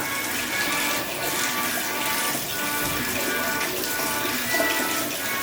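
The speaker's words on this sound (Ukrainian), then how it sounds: "Рукомийничок, в якому водичка. Зараз перевіримо, чи є гаряча вода." Water runs steadily from a sink tap in a mother-and-child room at a shopping centre, a continuous close hissing splash without pause or speech.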